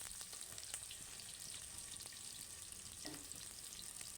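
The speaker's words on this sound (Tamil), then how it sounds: "வெங்காயத்தை சேர்த்து கொஞ்சம் அப்படியே வணக்கி விட்டுறலாம் கரண்டியில்" Cut onions sizzle in oil in a pan with cinnamon and cloves, a faint, even frying hiss that runs throughout. Soft ladle clinks and stirring scrapes turn up now and then.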